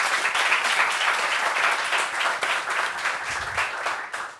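A studio audience on a French talk show gives sustained applause, a dense patter of many hands clapping steadily throughout, with a faint low voice briefly beneath it.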